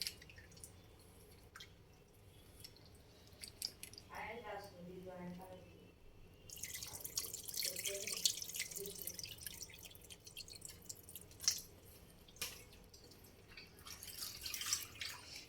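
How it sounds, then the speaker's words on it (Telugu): Tamarind water pours into a simmering fish curry, first as a few soft drips, then as a sustained splashing stream for several seconds, close and fairly quiet, with a brief voice speaking early on. "కొద్దిగా చింతపులుసు అయితే వద్దాం చిక్కాగా వేసుకైతే పోస్తాండి"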